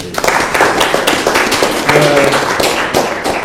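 An audience at a French-language talk event breaks into applause, scattered distinct claps and taps rising and falling close by, sparse rather than a dense roar.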